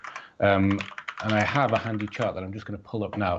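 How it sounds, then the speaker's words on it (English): Light clicking of typing on a computer keyboard runs beneath continuous close speech, the keystrokes faint and partly masked by the talking voice. "Sorry for the typing noise, folks."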